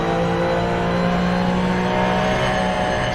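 Race car engine droning steadily in Assetto Corsa at the Mosport circuit, a loud sustained engine tone held at high revs with no break for the whole stretch.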